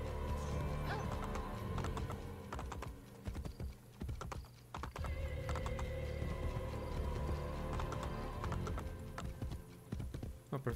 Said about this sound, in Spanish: ¿Por qué no corres más rápido? Caballo estúpido,